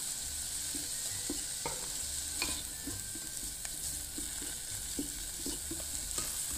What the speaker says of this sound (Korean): 대파, 마늘, 파와 마늘 향을 좀 내주겠습니다